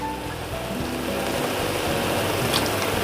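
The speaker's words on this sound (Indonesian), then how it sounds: "Kemudian langsung saya tambahkan ini ada air asam jawa teman semua." Tamarind water poured into a pan with palm sugar while cooking beef serundeng, a steady close wash of splashing liquid lasting a few seconds.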